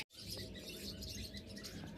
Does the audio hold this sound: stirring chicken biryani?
no